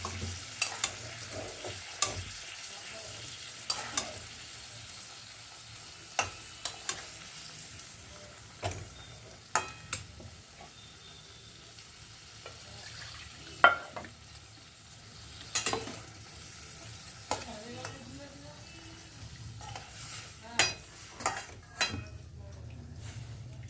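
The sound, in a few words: tangra fish curry stirred and sizzling in the pan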